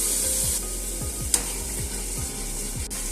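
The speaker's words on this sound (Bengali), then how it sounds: "যতক্ষণ পর্যন্ত না মশলার কাঁচা গন্ধটা চলে যাচ্ছে আর এর মধ্যে থেকে তেল ছেড়ে আসছে ততক্ষণ পর্যন্ত এটাকে ভালো করে কষাতে হবে।" Spice paste is stirred and fried in oil for a Bengali dish of flat green bean seeds. Close, steady sizzling sits under a regular series of short scraping strokes, with one sharp clink.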